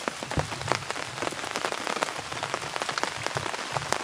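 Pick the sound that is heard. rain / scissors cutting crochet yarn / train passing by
rain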